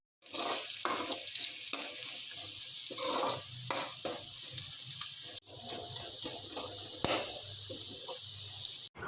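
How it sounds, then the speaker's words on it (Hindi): Onions fry in hot oil for mutton korma, cooking toward light brown. A steady, close sizzling hiss carries soft stirring clatters, with a brief dip midway and a short break just before the end. "अब जो है मैं इसको लाइट ब्राउन होने तक जो है फ्राई करूँगी प्याज को।"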